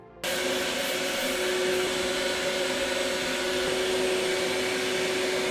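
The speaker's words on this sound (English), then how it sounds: "after I vacuum every square inch of this room" A vacuum cleaner switches on in a hobby room where resin models are built and runs at a loud, steady, whining drone for several seconds.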